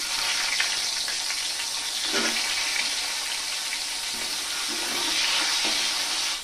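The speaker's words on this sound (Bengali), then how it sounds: "আলুগুলো একটু ভেজে নেব।" Potato pieces fry in the oil left over from frying rui fish, a steady close sizzle and hiss that runs on without pause, with a few soft stirring bumps.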